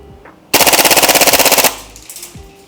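Tokyo Marui H&K MP7A1 gas blowback airsoft gun firing one rapid full-auto burst of about twenty sharp, loud, evenly spaced cracks lasting just over a second, then silence.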